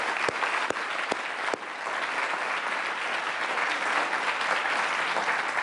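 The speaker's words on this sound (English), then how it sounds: "let's have one more round of applause for our terrific speakers" A student audience applauds lecture speakers at the end of a holiday lecture series, with sustained, even clapping from a large crowd and a few sharper claps standing out near the start.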